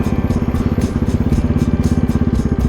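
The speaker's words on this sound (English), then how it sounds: "there's the Polar Pony engine and some dude that doesn't know how to drive" A Polar Pony engine running nearby, with a loud, steady, rapidly pulsing beat.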